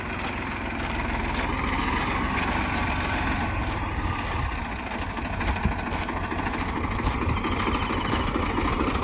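A steady, droning tractor engine runs close by throughout, a low rumbling idle with constant vibration and no voices.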